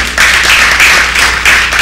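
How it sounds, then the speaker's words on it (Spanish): Audience in a church clapping for the Lord during a family sermon, with steady, dense applause that swells in a few bursts over a constant low hum, loud and close with no voices. "Le damos un aplauso al Señor por eso."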